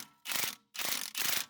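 A ratchet undoes the drop link bolts on an Audi A3, three quick bursts of rasping clicks separated by short pauses, close and clear with no talk.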